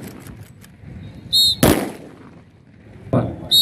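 Gunfire during a military passing out parade drill staged by MPSAF recruits, heard as a few sharp blasts spaced apart over a low murmur of background noise.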